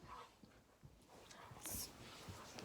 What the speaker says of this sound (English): you'll hear dogs playing in the background